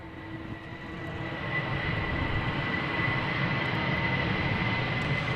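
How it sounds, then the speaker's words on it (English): Jet airliners take off at Amsterdam Schiphol Airport in a crosswind, a low engine roar swelling from moderate to a loud, sustained rumble with a steady whine above it, no voices. "these airplanes are taking off from the south to the north"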